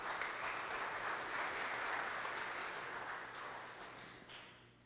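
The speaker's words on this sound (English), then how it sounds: "it might still be nice to give them a round of applause" A church congregation applauds during a Sunday worship service, a broad, even wash of clapping that holds steady, then gradually fades near the end.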